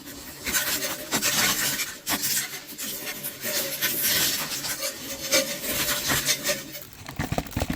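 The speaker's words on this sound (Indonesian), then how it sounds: "Kemudian ratakan pasirnya." Aquarium sand being spread and levelled by hand in an aquascape, a close gritty scraping and rubbing in uneven strokes, with no voices.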